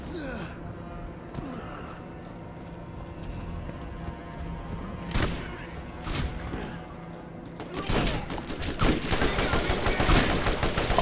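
Meat Grinder Torgue combat rifle firing in Borderlands, with rapid bursts of game gunfire mixed into a busy combat soundscape and growing louder and denser toward the end.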